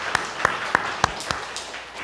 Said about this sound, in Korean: 고맙습니다 하고 박수 한번 하겠습니다.